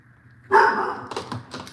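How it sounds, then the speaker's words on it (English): A single dog barks sharply at someone at the front door, close and loud, followed by a few softer yips and whimpers. "someone's at the front door, so my dog is barking"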